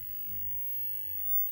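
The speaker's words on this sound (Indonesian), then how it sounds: "Jadi suara mendesis ini suara kipas ini" The cooling fan inside a Sharp Piccolo television gives off a steady, faint hiss with a low hum beneath it. The sound is continuous and unchanging, and no voices are heard.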